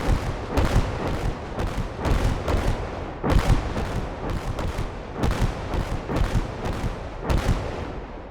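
Gunfire and heavy artillery shots in the World War II strategy game Gates of Hell, set at Stalingrad: a steady series of booming, reverberant blasts every half second or so, loud and alone with no talk.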